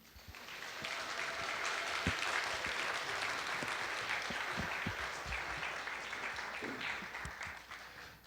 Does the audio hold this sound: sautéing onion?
no